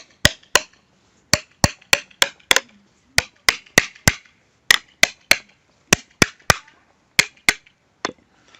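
Sharp metallic taps of a small hammer peening a scythe blade, about two dozen strikes in uneven bursts with short pauses, close and ringing.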